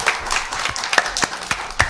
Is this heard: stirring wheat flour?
no